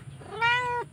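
A pet cat gives a single clear, drawn-out meow up close, rising then falling, over quiet room background.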